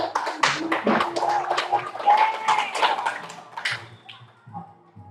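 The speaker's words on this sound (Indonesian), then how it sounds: "Tepuk tangan untuk kelompok 4" Brief, moderately close hand clapping from a small group after a class presentation by group 4, tapering off as it fades out.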